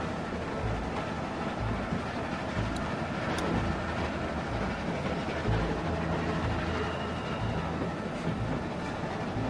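A moving train in The Walking Dead game makes a steady, loud rolling rumble throughout, with faint rhythmic clatter and a few brief metallic squeals, and no speech heard.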